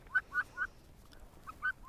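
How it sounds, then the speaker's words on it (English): A chicken on a homestead gives a run of short, bright clucks, three quick ones, a pause, then a few more, close by and otherwise quiet. "Oh, I got a chicken with me."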